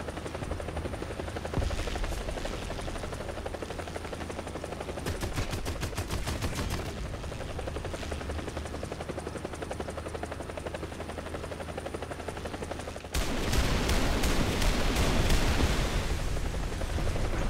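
Helicopter rotor drone from War Thunder tank gameplay runs throughout, loud and steady, with bursts of gunfire and machine-gun rattle, and a heavier, louder stretch of fire near the end.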